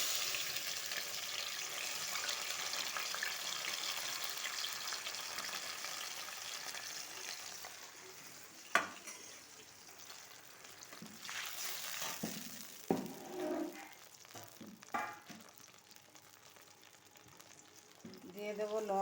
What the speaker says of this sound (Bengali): এবার ফোড়নে দেব সর্ষে বাটার জল।